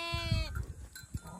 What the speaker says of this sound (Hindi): ये भेड़ें हैं इनकी।